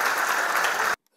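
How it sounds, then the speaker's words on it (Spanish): An audience at the Beldur Barik 2019 event in Irun bursts into loud, dense applause that cuts off abruptly after about a second. "os pido ahora un aplauso para nuestra delegada de Educación, Juventud, Valores, Derechos Humanos e Igualdad, Rebeca González"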